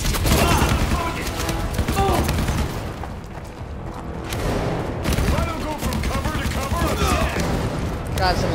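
Enemy gunfire in the shooter game CrossfireX, sustained loud bursts of shots and booms clattering through most of the stretch, easing briefly in the middle before resuming, with a voice speaking over it.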